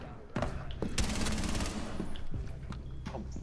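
Several sharp gunshots crack in quick succession during a Rainbow Six Siege match, close and punchy, with a dense burst of rapid fire in the middle, under a voice talking.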